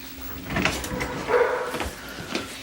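A dog barks a few times in quick, uneven bursts, moderately close and loud, with some shuffling or door-like noise between the barks.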